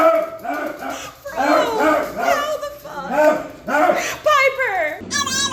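A pet dog makes a run of odd, warbling, yodel-like whines and moans, loud and close, in repeated rising and falling bursts, ending in a high squeal.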